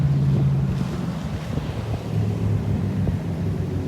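A cigarette speedboat engine rumbles steadily at a low, fairly quiet idle, with wind buffeting the microphone and water lapping nearby.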